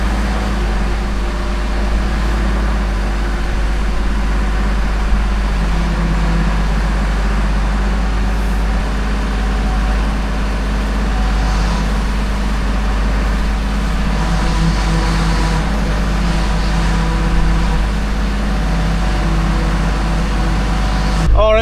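An old DAF 45 truck engine runs at a steady low idle, a continuous deep drone close by that stays even in level throughout, with faint background sounds.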